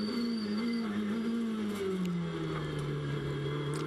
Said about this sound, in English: Listen to the engine note now.